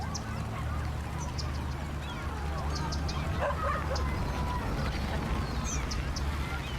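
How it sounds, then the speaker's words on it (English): A dog barks several times in the Cities: Skylines city-building game, the short yelps sitting over a steady bed of ambient town noise and rustling trees, with a person talking over the scene. "Put that dog on a lead."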